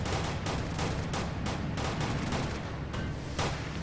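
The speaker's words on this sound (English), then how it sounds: "Shots fired." Rapid gunfire in GTA IV, a dense series of sharp shots about every half second over a continuous low rumble, loud and close.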